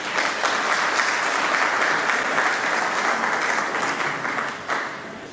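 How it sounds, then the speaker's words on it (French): Steady applause from an audience at an art exhibition and book signing, dense and even, tapering slightly toward the end with no talking over it. "C'est le docteur Mbou, sous vos applaudissements s'il vous plaît"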